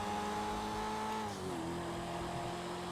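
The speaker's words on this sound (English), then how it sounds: "I don't know how I feel about the popping. I know that's the turbo." A video game car engine hums and shifts pitch with faint turbo popping from the exhaust, steady and fairly close.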